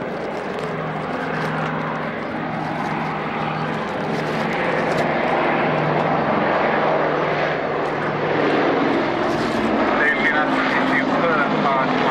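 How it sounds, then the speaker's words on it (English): Curtiss-engined propeller aircraft fitted with Wright propellers drones steadily at an army air corps airshow, a loud, continuous engine roar filling the whole stretch with voices faintly mixed in. "And they have got Curtiss engines and Wright propellers."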